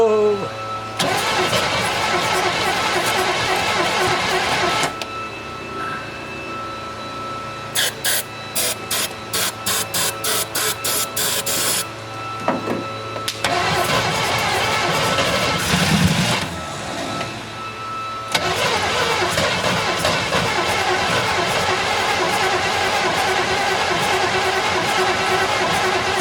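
A 1972 Chevelle Malibu engine cranks in several bursts, then a rapid stuttering series of attempts, before catching and running with a loud, rough idle close by.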